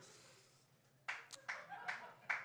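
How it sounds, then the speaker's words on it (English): A handful of scattered hand claps from a live comedy roast audience ring out after a quiet moment, uneven and sparse, like a small group clapping briefly. "Clap for me."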